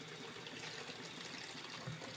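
Tap water gushing steadily into a container for rinsing acrylic paint brushes, a continuous broadband rush heard close and alone without talk.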